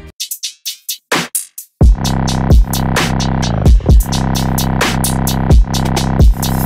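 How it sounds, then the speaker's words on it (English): A hip-hop drum loop opens with a few sparse hits, then drops into a full beat. A deep 808 bass is strongly sidechained under the punchy kick, with snappy snares and hats repeating in a steady rhythm at close range. "Altogether the drums sound like this."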